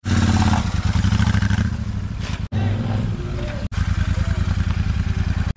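Royal Enfield motorcycle idling with a steady, loud thumping engine rhythm and two brief cutouts, heard on a rainy-day stop at a homestay in Gorubathan while the chain needs fixing.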